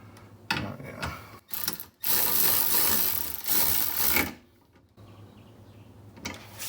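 A hand ratchet tightening bolts on a GR Corolla wiper motor under the cowl: bursts of dense rapid clicking and gritty ratcheting, close, separated by short pauses, no talking.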